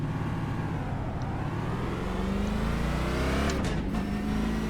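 A NASCAR stock car in the iRacing simulation at Texas Motor Speedway holds a constant, droning engine note with a slowly shifting pitch, steady and uninterrupted throughout.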